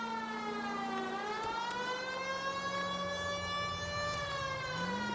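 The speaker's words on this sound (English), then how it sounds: "use the fucking siren, Phelps." A police car siren in a video game wails continuously, a long, steady tone that slowly rises and falls in pitch, loud and close throughout.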